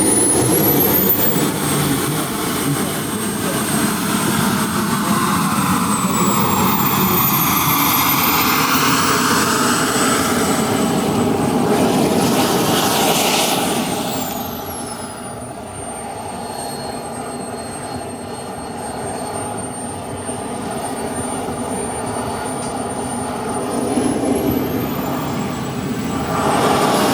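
A 2.1-meter radio-controlled F-86 model jet flies past with a loud, steady turbine roar and a rising and falling whine, easing off midway and swelling again near the end, with no talking.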